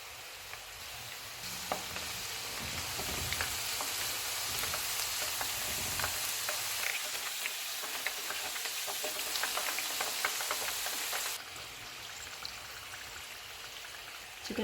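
Chicken kurkure pieces frying in hot oil over low-to-medium flame, a steady crackling sizzle like rain that drops noticeably quieter near the end, with no voices.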